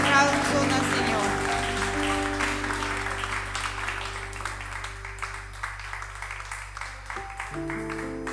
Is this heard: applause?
yes